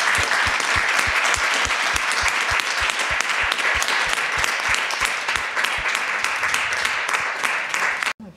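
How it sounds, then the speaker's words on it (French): Loud, sustained applause from a crowd at the grand final of an ethics awareness competition, dense clapping with a steady rhythmic pulse, continuing for several seconds before cutting off abruptly. "Je pense qu'on peut juste applaudir une fois tous ensemble Marc et Daniel pour leur"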